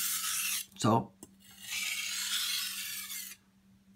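A knife drawn across a coarse sharpening stone gives a few dry rasping scrapes, with one short louder stroke and then a longer steady grinding rub, up close and otherwise quiet.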